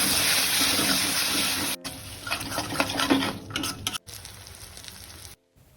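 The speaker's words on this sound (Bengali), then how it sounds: "এরপর টক দই দিয়ে আবার একটু কষিয়ে নেব।" Spices fry in a pan with cumin, chilli powder and sour yogurt for katla fish kalia, giving a loud, dense, close sizzle with some stirring scrapes. It breaks off abruptly a couple of times.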